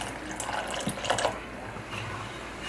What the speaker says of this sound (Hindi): इसका थोड़ा सा पानी डालेंगे।